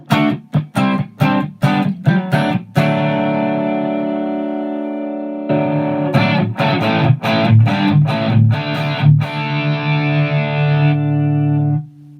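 Distorted electric guitar through an amp, choppy strummed chords alternating with long ringing sustained chords, loud and close, no talking.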